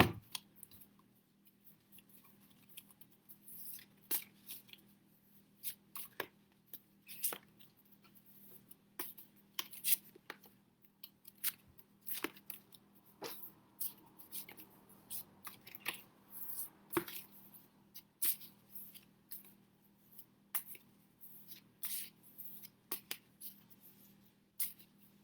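Faint, sparse papery flicks and taps as cards from a Change Me oracle deck are shuffled and drawn at a table, quiet and close, with no talking.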